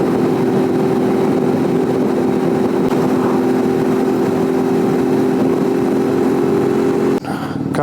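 A Suzuki V-Strom 650 motorcycle fitted with a Delkevic exhaust, a loud steady engine drone with a constant tonal hum under wind noise on a ride, cutting out abruptly near the end.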